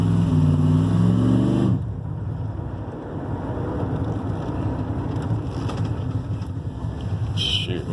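Idling engine of a 1988 GMC Sierra barn-find pickup truck, a steady close rumble running alone after a louder opening stretch.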